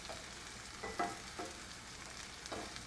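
Onion gravy for turkey Salisbury steak is quickly stirred and whisked in a pan, with a low steady sizzle broken by a few light utensil clinks and scrapes.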